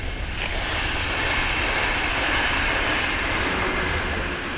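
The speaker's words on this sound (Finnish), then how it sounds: "saatiin ihan sekin sitten videolle sitten toi junan äänet" A train passes at night in light drizzle, a broad, steady rumbling roar holding constant and fairly loud throughout, with no voices over it.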